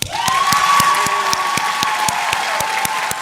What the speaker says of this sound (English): grant the opportunity for all of us to celebrate and praise each other with an enormous round of applause